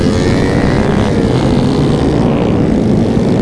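A Honda Grom with a 250 engine in a motorcycle drag race, giving a loud, steady, buzzing engine roar that holds constant for a few seconds, close and unbroken, with no voices.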